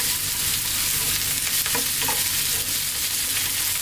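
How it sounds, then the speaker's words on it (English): Cauliflower sizzles and crackles loudly in a pan on maximum heat while a utensil scrapes and stirs it, a constant close stir-frying hiss. "High heat all the way here, absolutely maximum heat. Stir frying"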